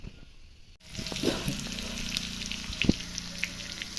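Onions frying in a pan start up after a brief quiet moment into a moderate, continuous sizzle, with a few small pops and clinks from stirring.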